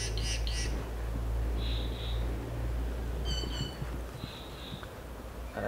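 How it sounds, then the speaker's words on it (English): Short bursts of bird calls and chirps recur every second or so over a steady low background hum, moderately clear and at middle distance, with no talking. "There's loads of birds in here at the moment."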